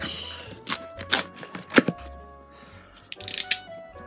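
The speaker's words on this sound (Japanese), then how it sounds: "ナイフでね、ちょっと切って。" A knife slicing open the packaging around two Seagate 3TB ST3000DM008 hard drives, heard as several sharp, close crackling cuts and tears with pauses between them and no talking.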